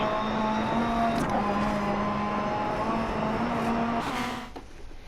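A rally car on tarmac in DiRT Rally drones with a loud, steady engine note. The pitch holds and then shifts through gear changes before easing off at the end.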